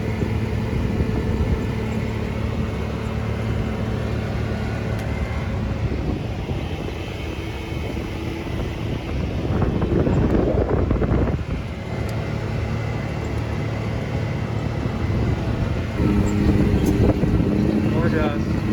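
Engine of a 2021 Can-Am Maverick Max RS Turbo RR side-by-side running on a trail, a steady loud drone that swells in the middle as the throttle opens, with people talking over it.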